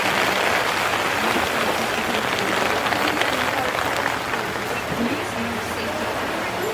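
Rain falls steadily outdoors, a dense, even hiss of drops that stays loud the whole time, with faint voices mixed in underneath.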